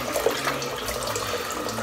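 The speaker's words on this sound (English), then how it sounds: "put more water back in the sink." Tap water running into a bathroom sink, a steady close splashing gush with small gurgling variations, continuous and fairly loud, no voices over it.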